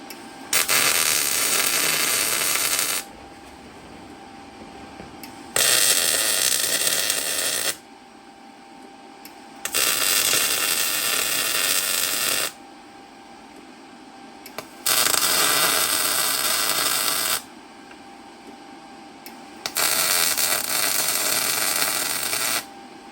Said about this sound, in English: So now we're just gonna put some tacks on there.